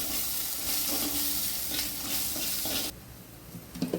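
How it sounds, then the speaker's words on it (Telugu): Ginger garlic paste fries in a hot pan with a strong, steady sizzle and hiss for most of the moment, then the sizzle drops away abruptly, leaving a quieter background with a few faint clinks at the end. "ముందుగా అల్లం వెల్లుల్లి పేస్ట్ వేయించుకొని ఈ విధంగా వేయించుకోవాలి"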